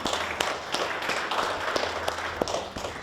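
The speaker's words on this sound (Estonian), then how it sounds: "Aplaus!" Scattered applause from a small audience, a few sharp claps standing out over a dense, fairly close patter of hand clapping throughout.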